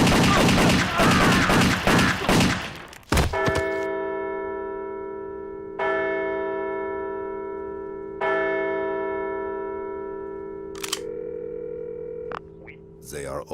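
Cartoon gunshots from an animated comedy: a sharp crack follows a burst of loud, busy sound, then three bright hits each leave a long ringing, bell-like tone that slowly fades, with a final short burst near the end.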